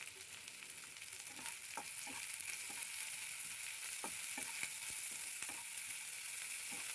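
Strips of capsicum frying in a pan, a soft steady sizzle with scattered pops and crackles, quiet and close throughout.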